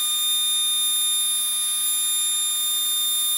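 An electric motor spinning at a 3,600 hertz pitch gives off a steady, unbroken whine with layered tones, loud and constant for the whole stretch, with no voices.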